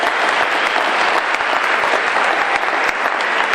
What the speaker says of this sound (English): You need to give yourself a very loud round of applause